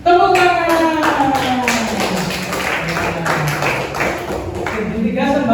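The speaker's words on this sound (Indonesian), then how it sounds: "Tepuk tangan." Children clap together in a primary-school mathematics classroom, close and loud for the whole stretch, with young voices chanting or calling out over the claps.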